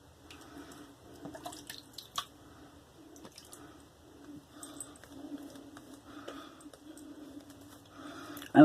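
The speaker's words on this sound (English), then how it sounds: "Let me add even more water." Water drips and splashes irregularly onto lathering shaving soap, scattered wet squishing taps, faint and close, ending with a louder splash.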